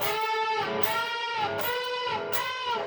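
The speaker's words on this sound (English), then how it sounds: "Then we have a series of 4 unison bends, which sounds like this." A sustained, bright electric guitar tone with a series of four unison string bends, swelling in a steady rhythm.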